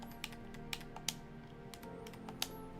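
Computer keyboard typing during a game stream, a few sparse, faint key clicks spread over a few seconds under a soft steady background hum.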